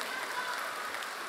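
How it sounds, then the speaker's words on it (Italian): A brief burst of audience applause fills a hall at a congress on the right to health, a dense, even patter of many hands clapping with no clear voice over it. "Non sono qui per raccogliere i vostri applausi"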